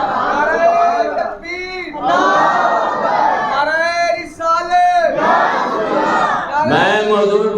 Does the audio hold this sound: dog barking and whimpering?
no